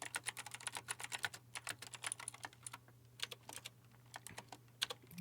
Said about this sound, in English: You hear me typing and stuff like that?